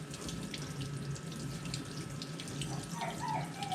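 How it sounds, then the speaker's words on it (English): Cold tap water runs steadily into a kitchen sink while a dry-aged ribeye is rinsed under it, a continuous close hiss and splash with no talking. "let's take a look once I rinse it all off completely with cold water"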